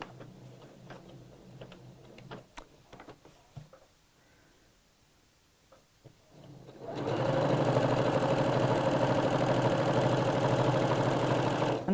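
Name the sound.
sewing machine stitching around a pocket seam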